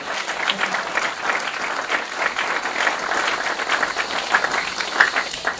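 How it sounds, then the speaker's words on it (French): A church congregation applauding the Lord, dense sustained clapping from a large crowd filling the room, steady and loud throughout, with some voices faintly mixed in. "Est-ce qu'on peut acclamer"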